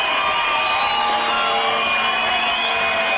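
Spectators at the 2013 FINA World Championships diving in Barcelona cheer loudly after a forward four-and-a-half somersault dive, a sustained roar of voices with whoops and whistles running throughout.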